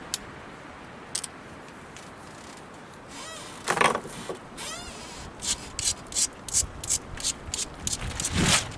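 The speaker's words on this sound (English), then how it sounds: "Flakes and let's grind it." Dacite flint flakes ground by hand, quiet at first, then a run of short rasping scrapes repeating in an uneven rhythm and growing louder toward the end.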